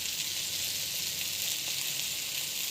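Potatoes being fried with spices in a pan, a dense, steady sizzle throughout, close and fairly loud with no voices.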